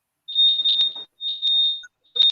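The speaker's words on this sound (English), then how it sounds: "It's like a damn smoke detector going off." A smoke-detector-style alarm beeps in loud, piercing, high-pitched bursts, three separate pulses with short gaps between them.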